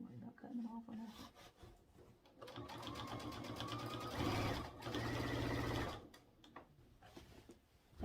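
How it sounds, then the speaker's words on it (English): A home sewing machine stitches binding onto a quilt in quick mechanical bursts that start, stop and speed up, with someone talking over and between the runs. "I've got my machine set to where when you stop, it automatically stops with the needle down in the fabric"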